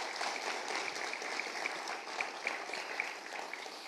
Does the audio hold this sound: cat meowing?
no